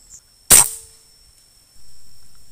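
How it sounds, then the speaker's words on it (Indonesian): A single sharp air rifle shot at a stone target about 20 meters away, a loud close crack with a brief decaying tail, followed by quiet and a low steady hum. "langsung saja kita akan menembak batu ini dengan posisi turret masih berada di angka 10 tadi ya"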